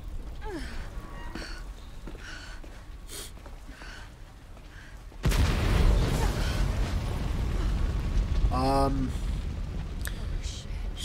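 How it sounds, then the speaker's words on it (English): In the Resident Evil 2 video game, a sudden loud explosion bursts in after a quiet stretch and leaves a sustained roaring rumble, with a short vocal exclamation heard over it. "So from what I know about explosions,"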